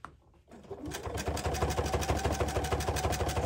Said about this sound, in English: I'm just going to stitch along the top edge of the collar stand